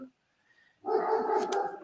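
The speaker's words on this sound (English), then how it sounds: "these dogs are going crazy" Dogs bark nearby, a burst of loud, close barking that breaks in suddenly after a brief quiet and continues for about a second.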